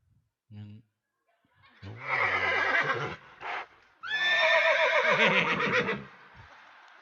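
A horse neighing at a crowd event, with long whinnying calls following a short sound at the start, standing out loudly in the room; it may be a person imitating the animal.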